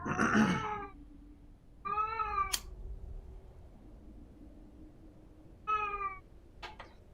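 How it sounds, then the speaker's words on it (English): A pet cat meows near a microphone in a quiet room: a loud opening yowl, then two shorter rising meows spaced a few seconds apart, with faint background hum between them. "You hear that, kitty cat?"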